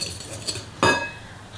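A single sharp clink of a utensil against a bowl holding five egg yolks, about to be mixed with sugar for a Christmas mango pastry-cream yule log. Loud and close, with quiet kitchen room tone before and after.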